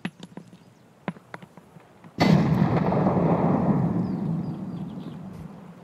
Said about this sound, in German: Matze, ich schmeiß mal eine Granate, ja?